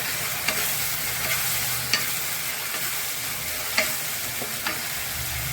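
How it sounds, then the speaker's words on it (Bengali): Chopped tomatoes frying in a pan with onion, garlic and ginger while cooking chicken, a steady, close hiss of sizzling oil broken by a few light scrapes and knocks of stirring. "পেঁয়াজ রসুন আদাটা ভালো করে ভাজা হয়ে গেছে। এখন ভিতরে দিয়ে দিলাম টমেটোগুলো।"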